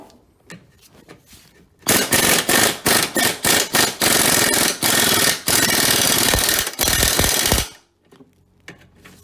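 A power tool, likely an impact wrench, undoes a 13mm bolt on the front driver-side wishbone control arm of a 2002 Chrysler PT Cruiser, firing in loud rapid hammering bursts for about six seconds amid quieter workshop clatter.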